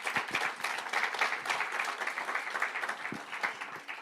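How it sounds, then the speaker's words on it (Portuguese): A church congregation applauds during a service, dense sustained clapping from many hands with scattered sharper claps standing out, steady throughout. "dale uma ofrenda de aplauso a Cristo"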